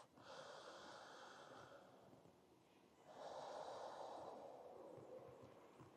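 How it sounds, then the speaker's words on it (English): Deep breathing during a vinyasa yoga flow: one long, airy inhale and exhale, then another fuller, louder breath, heard close and alone without speech. "One more breath."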